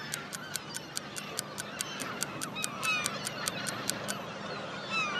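Seagulls calling in a rapid series of sharp, regularly spaced honking cries, moderately near, continuing over a soft outdoor background hiss without talk.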